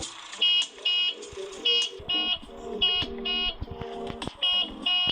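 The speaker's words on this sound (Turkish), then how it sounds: "Kornasına da basılıyor ha." An electronic toy car horn beeps repeatedly in short bursts, a steady honk-honk pattern with tonal notes, fairly close and loud, with faint background noise between presses.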